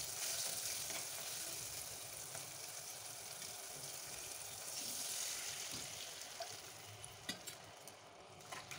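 Mango chutney in a pan sizzles and fries with a steady, broad hiss after water is added, continuous throughout with a few small clinks near the end.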